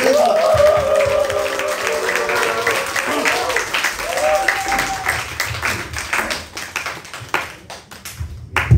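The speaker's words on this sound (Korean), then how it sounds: "뜨거운 박수로 모시도록" A church congregation claps warmly to welcome Pastor Han Ki-pyeong at an evening revival service, applause mixed with a voice and a brief musical tone early on, thinning out toward the end.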